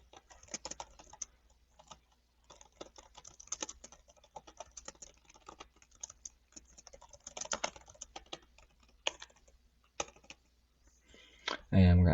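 Bursts of typing on a computer keyboard, light close key clicks in irregular runs with short pauses, fairly quiet, ending in a louder thump.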